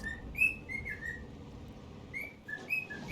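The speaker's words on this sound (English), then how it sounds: "Oh, my bird's happy. He's singing in the background." A pet bird sings in the background, giving bright, repeated whistled chirps in short phrases over a low, steady rumble of game sound.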